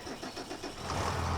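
A tractor engine in the video game Farming Simulator 25 cranks with a rhythmic chugging, then catches and settles into a steady low idle, close and moderately loud.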